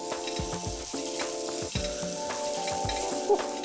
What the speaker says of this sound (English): Make sure your pan is nice and hot. You want to get a serious sizzle on this.